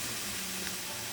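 Frozen pork frying in a Salad Master electric skillet, a steady, even hiss of sizzling fat held at a constant level with no breaks.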